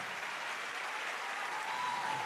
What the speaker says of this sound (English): let's give a huge round of applause for our parents and our guardians